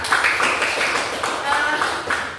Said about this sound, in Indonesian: beri tepuk tangan untuk Jida ya.